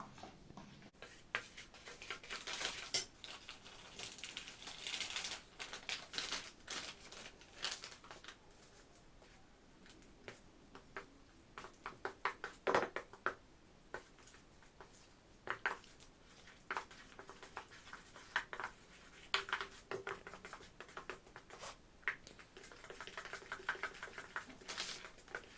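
A mixture of low-melting-point metals is stirred, giving quiet, irregular taps and scrapes that come in short clustered bursts over a long stretch, faint and close, with no talking.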